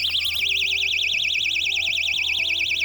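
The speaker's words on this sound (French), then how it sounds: "Ensuite, on a le bouton d'alarme." A keychain personal safety alarm wails shrilly and continuously, its electronic pitch sweeping rapidly up and down in a fast warbling pattern, loud and close.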